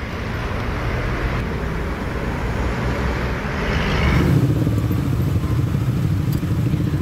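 Motorcycles crowding Kalimalang road in Bekasi with holiday travellers at night, a continuous loud rumble of engines and road noise that swells as bikes pass close, without speech.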